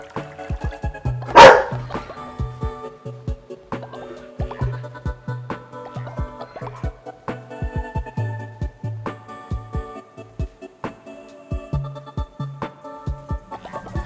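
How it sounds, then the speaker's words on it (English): An indoor dog barks again and again in short, sharp bursts, with a low growl rumbling between the barks. The sound is close and carries on throughout. "my dog is still growling"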